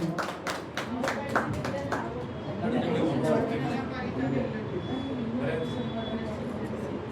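An audience applauds at a Mother's Day award ceremony: a brief burst of clapping at the start fades into room murmur and people talking.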